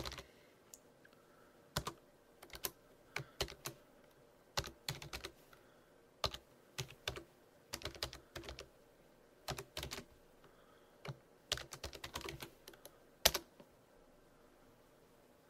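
A command is typed on a computer keyboard for an SSH backup, faint scattered bursts of clicky keystrokes separated by short quiet gaps.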